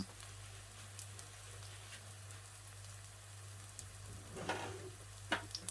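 Food sizzles steadily in a pan over medium heat while a mushroom dish is cooked, a faint continuous crackle with scattered small pops and a low steady hum underneath, no voices.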